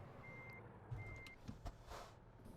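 A reversing alarm on a truck in American Truck Simulator, two steady beeps at a gas station, heard faintly over a low engine rumble with a few soft clunks.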